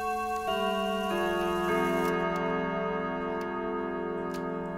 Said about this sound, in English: traditional Westminster chimes that sound like this